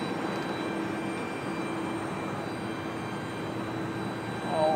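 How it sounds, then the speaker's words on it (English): Alaska Airlines jet at Portland airport running down the runway for a high-speed test run, a steady moderate engine roar heard from a distance that swells slightly near the end. "Alaska Jet will gun it, get up to like 60, 70 miles an hour down the runway and then slam on the brakes"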